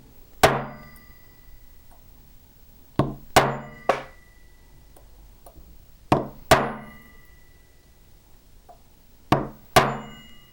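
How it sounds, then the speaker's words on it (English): Sharp metallic strikes of a 1-pound brass hammer on a metal jewelry bead, in pairs and triplets, close and ringing briefly, separated by quiet pauses. "give it a nice strike with my 1-pound brass hammer"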